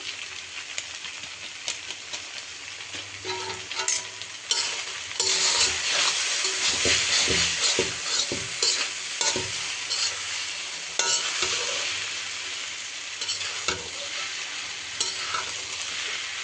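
An egg frying in hot oil in a pan, with instant noodle masala sprinkled in, gives a loud, steady sizzle close by, broken by scraping stirs. There is no talking.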